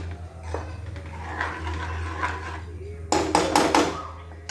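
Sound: stirring and roasting spices in a pot for Punjabi rajma

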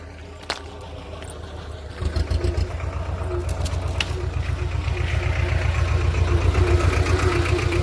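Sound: tractor engine arriving

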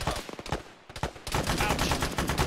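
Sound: gunfire in a military video game (Arma)

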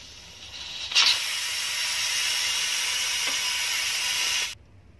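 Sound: pressure cooker hissing steam

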